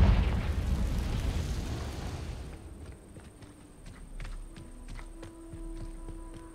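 A Confringo fire spell bursts in Hogwarts Legacy, a loud rumbling blast that rolls on for a couple of seconds and then decays into quieter game ambience with scattered clicks and tones.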